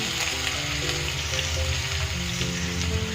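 Potatoes, eggplant and pumpkin frying in hot oil with a five-spice tempering, a loud, steady sizzle with crackling and a low hum underneath.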